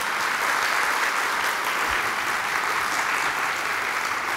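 An audience at a chancellor's informational meeting claps steadily and evenly throughout, a dense, continuous wash of applause following a speech with no talking over it.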